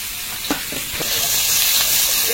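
Chopped onion and garlic dropped into hot oil with panch phoron and bay leaf in a wok, a loud, close sizzle that swells into a steady frying hiss after a few initial pops.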